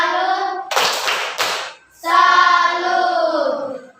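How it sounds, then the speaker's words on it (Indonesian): A class claps a rhythmic cheer in short bursts, with a pause between them, and then sustained group chanting or singing carries on. "Sekali lagi tepuk salut untuk kita semua."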